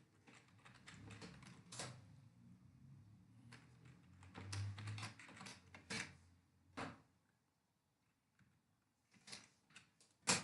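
Computer keys tapped in irregular bursts while writing Java switch-statement code, with short pauses between clusters of close, fairly quiet keystrokes.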